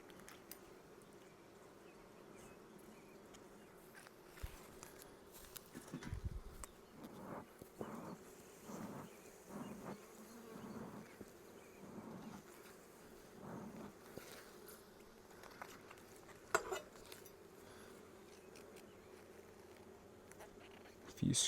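Honey bees hum softly and steadily while a hive is opened for inspection, a low, faint drone with occasional soft knocks and handling sounds.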